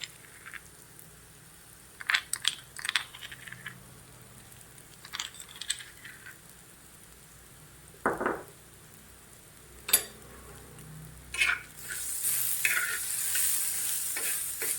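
Garlic cloves with turmeric and salt sautéed in a pan for a green chili fry, heard as scattered spoon scrapes and clinks over a low sizzle that swells into steady, louder frying near the end.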